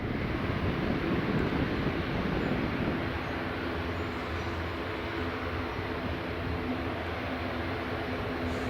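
Broad, steady roar of a distant WestJet Boeing 787 Dreamliner lining up on runway 24 at Edinburgh Airport, mixed with wind noise and holding an even rumble throughout.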